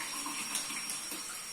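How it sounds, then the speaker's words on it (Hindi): Water runs into a glass in a home kitchen, a brief, faint, steady splashing stream heard alone. "और आप पानी डाल देंगे,"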